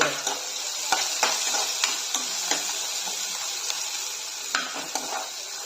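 Onions sautéing in a pan until brown for an aloo kobi dish, with a loud, steady sizzle and frequent clicking spatula strikes against the pan in an irregular rhythm, close up and free of speech.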